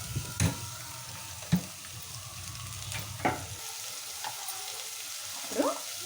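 Cumin, mustard seeds and thinly sliced onions frying for bottle gourd kurma, a continuous crackling sizzle with several sharp clinks and scrapes of a spoon spaced through it.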